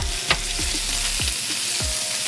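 Onions, garlic, curry leaves and bandanya (culantro) hit hot oil in a pot for a Trinidadian channa and aloo curry, giving a steady loud sizzle with several sharp bursts as each ingredient drops in.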